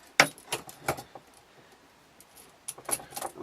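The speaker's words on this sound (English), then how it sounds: "Putting that bolt in there" A small cheap metal bolt is pushed into the trigger of a bodygrip trap during a repair, giving a few sharp metallic clinks and rattles close up, with quieter handling between them and no talk.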